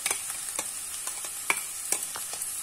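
A spice masala for cauliflower rezala frying gently in a wok, heard as a quiet, steady sizzle with soft, regular scrapes and clicks from stirring.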